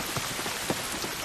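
Steady rainfall from The Last of Us video game, a dense close hiss of drops striking surfaces with a few slightly heavier splashes, no voices.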